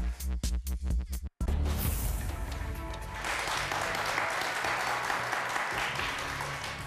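Studio audience applause on a televised Turkish word quiz show, a brief burst of music or voices at the start giving way to sustained, dense clapping that stays steady to the end.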